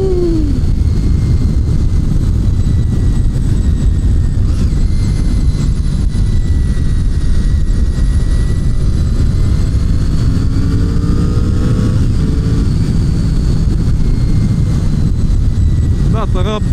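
A motorcycle fitted with a sport exhaust, its engine droning loudly and continuously with rising and falling revs, heard close up while riding amid strong wind noise.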